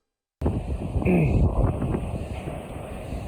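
Strong, high wind buffets a microphone on a roof, a loud continuous roar with gusts that rise and fall throughout.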